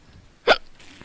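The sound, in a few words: hiccup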